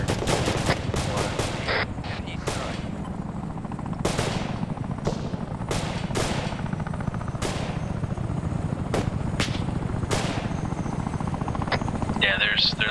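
Gunfire in ARMA 3 cracks out as sharp, scattered shots over a constant loud helicopter rotor drone, some near and some distant, with voices talking.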